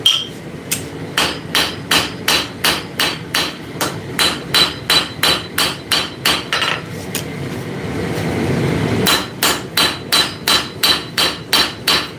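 A forging hammer strikes hot metal on an anvil to draw out length, in loud, sharp, evenly spaced blows that come in quick runs with brief pauses between them.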